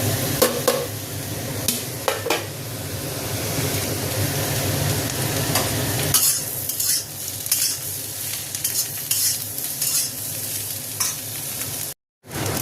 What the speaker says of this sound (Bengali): আলু, পেঁয়াজ, রসুন সব ভাজা হয়ে গেছে